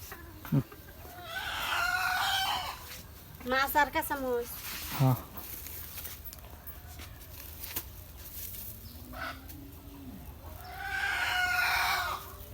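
Chickens cluck and a rooster crows at a busy fish and poultry market. Several close, loud bursts of clucking and crowing come between stretches of people talking.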